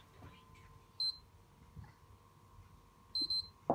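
Two short electronic beeps from a PS3 during a hard reset with the power button held, one early and a double beep near the end, over a quiet background hum.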